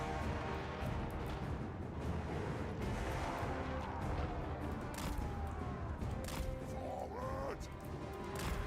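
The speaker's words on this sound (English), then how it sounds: "I'm watching to see when more rockets come over." Rockets and artillery barrage in a Total War battle against Nurgle forces, a dense continuous rumble of distant impacts and crashes with a whistling streak near the end, steady and loud throughout.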